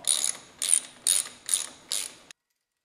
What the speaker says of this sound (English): So let's get this rear brake caliper bolt off.